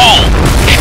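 A grenade blows up in the shooter game Point Blank: a short, loud, heavy boom with a dense low rumble and a brief high metallic ring fading within a second.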